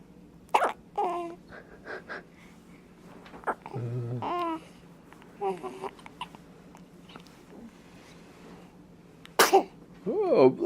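Sneezes from a person, heard as several scattered sharp bursts across a quiet room, mixed with hiccup-like catches and bits of babble, close to the listener.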